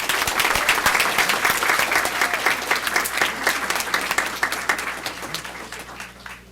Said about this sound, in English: Let's give a round of applause to Grayson.